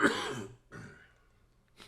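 A podcast host coughs and clears his throat, a harsh burst followed by two smaller coughs, close to the microphone.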